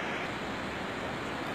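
The Cachoeira da Fumaça waterfall in a Brazilian state park gives off a steady, even rushing wash of water, fairly loud and continuous with no breaks, with no voices heard over it.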